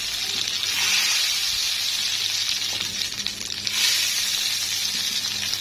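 Bessara, the Egyptian fava bean purée, sizzles and hisses as hot oil with fried onions is poured over it, a steady close crackle swelling twice and fading between pours.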